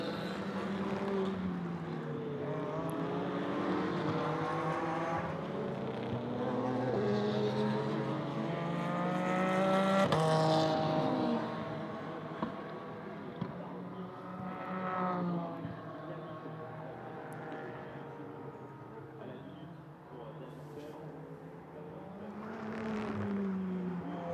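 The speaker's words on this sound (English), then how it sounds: "Wonderful watching GT cars race at night." GT race cars on the Magny-Cours circuit at night, several engines howling and shifting pitch as they pass and rise and fall, heard at a moderate distance and fairly faint.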